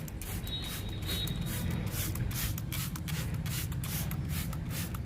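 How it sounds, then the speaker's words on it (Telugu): Liquid is sprayed onto a vinca plant in a flower garden, giving a steady run of soft, close hissing spray bursts with no talking. "వింకాకి స్ప్రే చేస్తున్నా"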